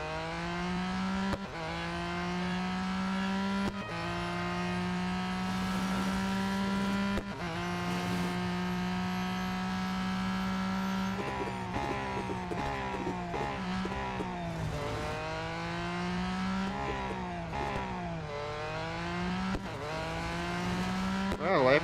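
Race car engine in the Real Racing 3 video game, a loud whining motor repeatedly climbing through the revs and dropping at each gear change, with faint tire noise, continuous for over twenty seconds.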